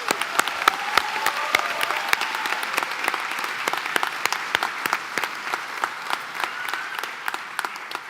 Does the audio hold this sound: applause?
yes